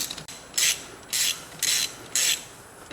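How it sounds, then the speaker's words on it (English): Ratcheting a wrench to screw in the intercooler on a 2015-2017 Subaru WRX: four short, close, rasping ratchet bursts in a steady rhythm, with quiet pauses between them. "Now we just screw it in."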